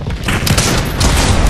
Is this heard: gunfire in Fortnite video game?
yes